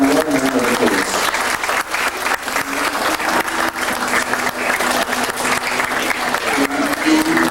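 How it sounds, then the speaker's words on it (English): A wedding reception crowd applauds steadily as the bridal party enters, dense continuous clapping with some murmuring voices underneath, close and loud throughout. "Give them a round of applause."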